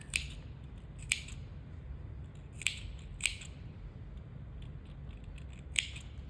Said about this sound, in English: I'm gonna snip the curves